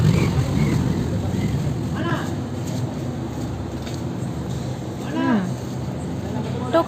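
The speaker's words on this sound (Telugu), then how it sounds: "ఇంటి పక్క యాక్చువల్లీ ట్రాఫిక్గా కూడా ఉంది." Road traffic beside a house passes in a continuous rumble, with a few vehicles revving by, heard under ongoing conversation.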